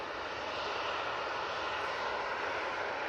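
An EasyJet Airbus A320-200 sits lined up for departure at Manchester Airport, its engines giving a steady, even roar from a moderate distance, constant with no break.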